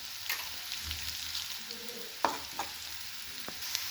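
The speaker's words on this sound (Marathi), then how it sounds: "मस्त कांदा आपला असा परतून झालेला आहे, तर मी त्याच्यामध्येच आता हे पडवळ भाजून घेतलेलं टाकणार आहे" Onion and snake gourd frying in a pan give a faint, steady sizzle, broken by several sharp scrapes and clinks as a spoon stirs against the metal.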